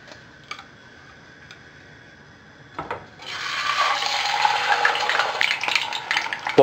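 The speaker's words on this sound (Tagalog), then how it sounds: "Then, ipiprito na natin yung isda." Pompano fish sizzles in hot cooking oil in a frying pan, a few ticks and taps first, then a dense, crackling hiss rising suddenly and continuing steadily, close by with no talking.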